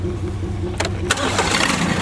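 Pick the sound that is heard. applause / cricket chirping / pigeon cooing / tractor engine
tractor engine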